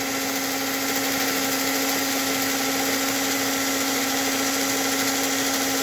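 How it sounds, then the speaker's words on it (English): An old model train motor runs steadily on 17 volts, with ball bearing axles and a ball bearing smoke gear, giving a constant loud whining gear drone with a strong steady tone and no pauses. "There's some gear noise."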